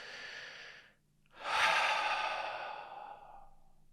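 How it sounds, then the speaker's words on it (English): A slow, deep breath drawn in and then let out, a soft airy inhale, a brief pause, then a longer, louder sighing exhale fading away, close and alone with no talk. "Nice big deep breath."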